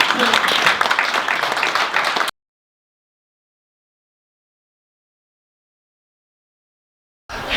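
Dense clapping from a business-forum audience at a Korean-American friendship event greets a former minister for about two seconds, then cuts to silence before briefly returning at the end.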